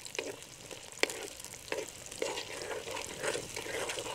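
Sliced onions frying in hot oil for chicken pulao, a steady soft sizzle with scattered clicks and scrapes of stirring, one sharp tap near the start, close and alone with no talk.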